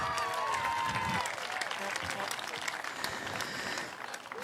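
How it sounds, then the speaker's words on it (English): Outdoor crowd applause for beginner buck dancers at a fiddle and dance contest in Smithville, Tennessee, with steady clapping under a voice and a brief high whine at the start, gradually thinning out. "let these folks here give you the round of applause that you deserve"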